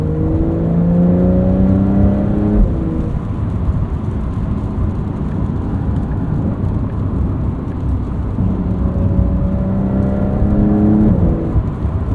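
Porsche 911 Carrera S (992.2, 2025) 3-liter twin-turbo engine revving up twice with rising harmonic pitch, each climb breaking off into a steady loud drone of road and engine noise in between, heard from inside the car.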